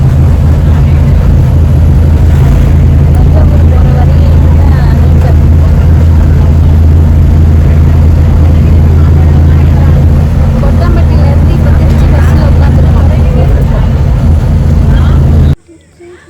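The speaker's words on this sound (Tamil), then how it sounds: "பஸ்ஸு பஸ் ஸ்டாப் இப்போ தான் ரீச் ஆகுது" A bus drives along in Tamil Nadu, approaching the Trichy bus stop, heard from inside as a loud, steady low engine rumble and road drone that cuts off abruptly near the end.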